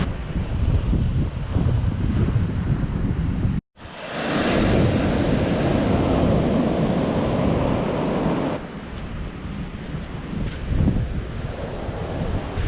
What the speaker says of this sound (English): We're just out here on the beach